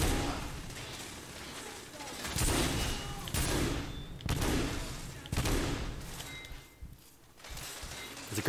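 A repeating shotgun fires in The Order: 1886, several heavy booming blasts spaced about a second apart, loud and close, amid a busy game background.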